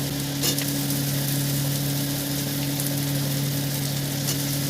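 Chicken is stirred with ground coriander in a pan while cooking, giving a loud, continuous sizzle with a few scraping stirs and a steady low hum underneath.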